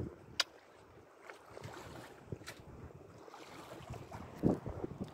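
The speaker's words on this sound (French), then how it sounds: "Les voiles sont hissées, grand voile à fond, génois à fond, vitesse 4 nœuds 6, 5 nœuds" A sailboat under full sail, mainsail and genoa fully hoisted, moving at about five knots, with steady wind rushing across the microphone and water washing along the hull, plus a few sharp knocks of rigging.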